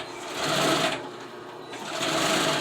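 Sewing machine stitching car seat upholstery for old Suburban seats, running in two steady bursts with a short pause between them, close and fairly loud.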